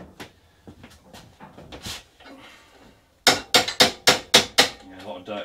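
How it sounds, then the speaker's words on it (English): A small hammer taps metal on a lawn mower's drive axle, first in scattered light knocks, then a quick run of about seven sharp, ringing strikes up close. "And get a little tiny tapping hammer."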